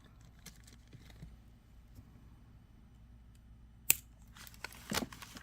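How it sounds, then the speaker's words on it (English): Scissors cut excess wire or material while a pair of Celtic earrings with Irish marble is being made, giving a sharp snip and then a short rustle, close but quiet, against faint background noise. "Cut off the excess."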